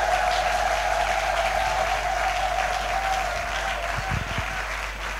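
A church congregation applauds loudly and steadily during a French praise and worship service, a dense wash of clapping that fills the whole stretch with a few louder claps near the end.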